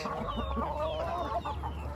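Chickens clucking steadily while pecking at purslane, several birds close by making short overlapping calls over a low background hum.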